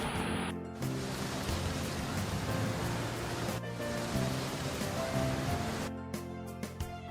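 Steady broadband hiss of rain falling, continuous and fairly loud throughout, with a brief drop in intensity near the start and a few scattered louder drips toward the end.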